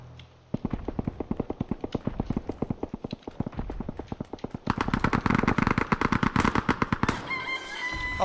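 Rapid, evenly spaced shots ring out in PUBG, a long string of sharp cracks that grows louder and denser near the end before stopping abruptly.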